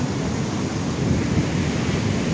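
Sea waves surging at a beach resort, a steady, full roar of surf rolling in close by, with a broad, continuous wash and no voices.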